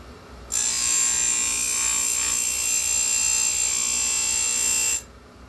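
An electric chain grinder sharpens a chainsaw chain tooth, producing a loud, steady high-pitched grinding whine that starts abruptly, holds for about four and a half seconds at close range, then cuts off.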